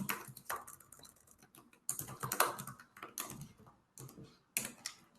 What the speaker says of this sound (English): typing in whatever it might be and clicking save